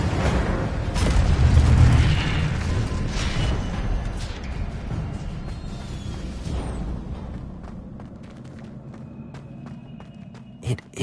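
The Incendio fire spell is cast in Hogwarts Legacy: a deep, rumbling whoosh of flame swells loudly, then fades into a long crackling tail, with a sharp pop near the end.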